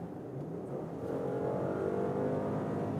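Mercedes GLE Coupé 400 4MATIC engine revving up as it accelerates from about 90 to 110, a steady rising drone heard from inside the cabin, building slightly louder over a few seconds with no talking.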